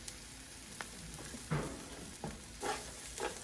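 Onions cooking in a pot for dirty rice, a soft continuous sizzle broken by a few stirring scrapes and clatters, fairly quiet.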